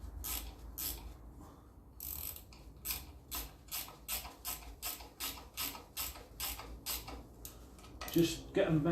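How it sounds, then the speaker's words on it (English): A 10mm spanner ratchets repeatedly on bolts while fitting a rear wheel bearing on a Land Rover Series 3, giving steady rhythmic clicking bursts close by with a brief metallic clatter near the end. "10mm spanner."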